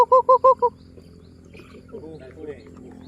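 A chicken gives four quick, loud honking calls in a row, then goes quiet while softer voices talk at a distance over a low background hum.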